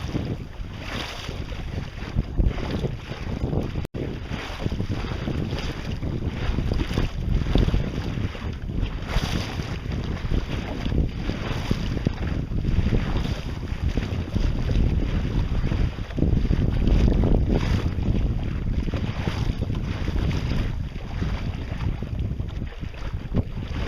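A sailboat heads upwind onto a beam reach on a mountain lake, a continuous roar of wind buffeting the microphone over rushing water against the hull, steady and loud throughout with no talking.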